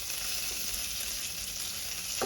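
Fermented pork (naem) stir-fried in a pot sizzles steadily in a soft, continuous crackle, with a brief clatter near the end.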